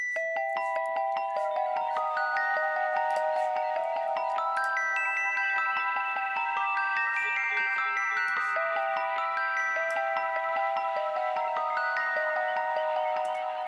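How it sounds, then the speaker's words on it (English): A shimmering celeste arpeggio from the Spectrasonics Celeste Memories library cascades in steady, rapid notes with higher octaves layered above, bell tones overlapping into a dreamy wash. "this is actually the Celeste Memories from Unclean, the Spectrasonics library"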